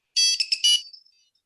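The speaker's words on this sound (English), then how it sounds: "Have you heard my ringtone for this phone?" A bright electronic ringtone plays from an iPhone, a short burst of quick high chiming notes in a rapid stuttering pattern that fades out within about a second, loud and clean with no talking.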